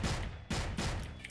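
Rapid bursts of gunfire in the CrossFire first-person shooter game, two or three loud, dense volleys in quick succession with no talk over them.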